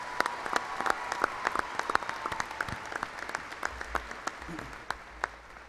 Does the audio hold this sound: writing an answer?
no